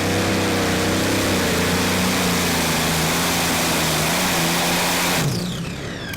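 The Black Gold pulling tractor's engine roars at a tractor pulling event, a loud sustained drone with rising and falling harmonics that holds steady, then drops and fades toward the end of the run.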